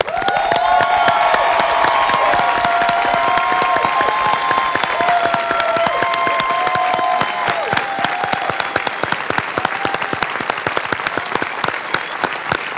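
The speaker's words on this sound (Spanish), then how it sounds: "quiero pedir un fuerte aplauso para don Enrique Gratas" Studio audience gives a strong, sustained round of applause in honor of Enrique Gratas on a late-night TV show, dense rapid clapping with some cheering, loud and continuous throughout, while a sustained melodic tone runs underneath.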